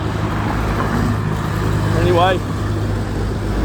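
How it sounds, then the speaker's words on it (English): Road traffic rumbling past on a busy road during a walk, a constant low engine drone close by, with someone speaking over it briefly. "the traffic's pretty insane"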